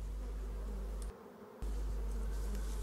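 Honeybees buzz steadily around an emptied yellow hive box after the colony is moved, a close, continuous hum that briefly drops out near the middle.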